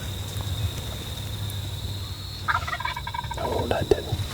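Wild turkey toms gobbling at each other across a timberline in March, a short burst of rattling gobbles at middle distance against a steady insect hum, with faint rustling nearby.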